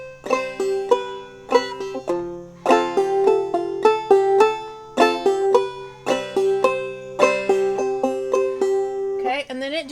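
A banjo picks the tune "Snowdrop" in clawhammer style, with a steady, bouncy stream of bright plucked notes and a droning string, close and unaccompanied, ending with a brief fumbled strum.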